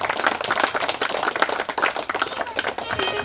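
Audience applause at a devotional song event honoring Swami Koragajja, dense continuous clapping from a crowd, steady and moderately loud throughout, with voices mixed underneath.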